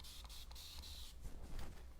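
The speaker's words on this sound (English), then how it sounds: "I'm going to spray this off this ledge." A spray bottle mists water onto painted furniture in short, quiet hissing bursts over a low background hum, close to the microphone.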